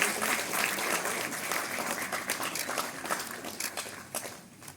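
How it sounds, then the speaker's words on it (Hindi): An audience at the DMRC foundation day ceremony in Metro Bhawan, New Delhi, applauds an honoured staff member, a continuous wash of clapping that stays even, then thins into scattered claps toward the end. "जोरदार तालियां हो जाएं श्रीमती पियाली भावल पॉल के लिए।"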